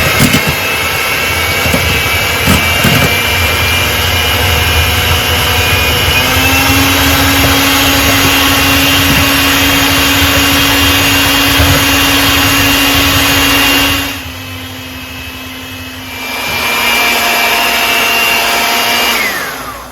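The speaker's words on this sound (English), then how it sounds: "Now we're gonna whisk this until it forms soft peaks." An electric mixer whirs steadily as it whisks cream toward soft peaks, a loud sustained motor drone that drops away briefly near the end before starting up again.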